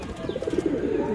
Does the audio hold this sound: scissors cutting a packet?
no